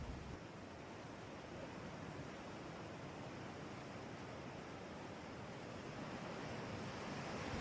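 Steady wash of ocean surf rolling onto a beach, a continuous broadband roar with slow swells and no voices.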